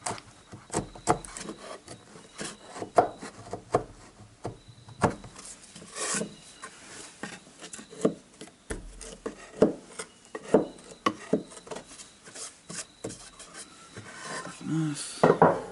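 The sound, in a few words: chiseling out wood for a table base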